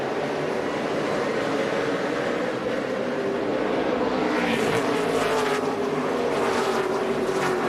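Race cars in the O'Reilly 200 at Bristol Motor Speedway make a steady, continuous engine roar, with the field's droning note holding throughout and a rising rush of higher-pitched engine noise in the latter half.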